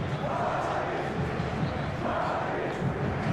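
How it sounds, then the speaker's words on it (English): A passionate football stadium crowd roars steadily through a clear evening match between Real Madrid and Real Sociedad, a dense, loud wall of cheering with swells and no break. "This place is living up to its reputation as one of the noisiest corners of the footballing world."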